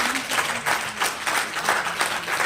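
Audience applause in a hall during a poetry recital and musical evening, loud clapping that swells and dips in uneven waves for a couple of seconds.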